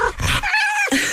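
A short dog vocalization, whimpering and yipping in a few quick tonal bursts, plays loud and close in a Toyota RAV4 advertisement.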